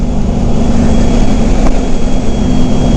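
A motorcycle accelerates past at speed, its engine loud and steady, heard from a riding position with heavy wind noise smothering much of the sound.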